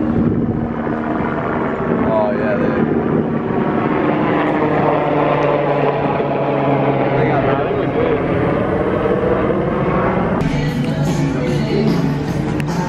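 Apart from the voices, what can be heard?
helicopter flying overhead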